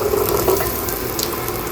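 Onion dropped into hot oil with cumin and mustard seeds sizzles in a steady, dense crackle throughout, close and fairly loud, with a few brighter pops and spatters, no voices.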